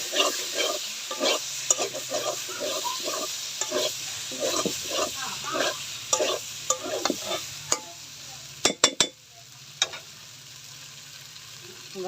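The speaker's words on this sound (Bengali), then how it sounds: "এবার ভেজে রাখা আলুগুলা দিয়ে দিব। মশলার সাথে ভালো করে মিশিয়ে দিব।" Fried potatoes are stirred into a sizzling spice mixture for vegetarian aloo dum, with a constant loud frying hiss under repeated scraping stirs and a few sharp clinks of the utensil near the end.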